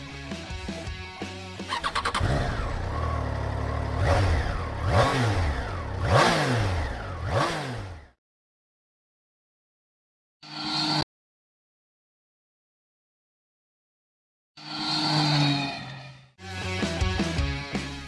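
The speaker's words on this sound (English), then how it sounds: "But even on the move, the triple sounds just as enticing as you expect it to be." A Triumph Trident 660 triple-cylinder motorcycle engine revs up and down several times while under way. Loud rising and falling surges give way to silence, then a short burst, another gap and a final pair of revs.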